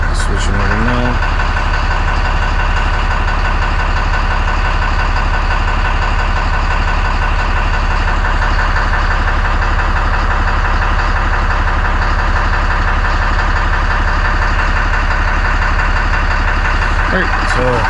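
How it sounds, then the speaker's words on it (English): A Dodge Ram 2500 with a 12-valve diesel and a stock exhaust idles close by, a loud, steady low clatter with a rhythmic knock that holds evenly throughout. "Let you hear what the 12 valve sounds like."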